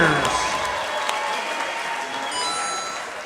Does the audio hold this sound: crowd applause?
yes